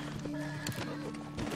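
A horse in Red Dead Redemption 2 whinnies with a short shrill call, mixed with hoof clops and busy game sounds, heard at moderate volume.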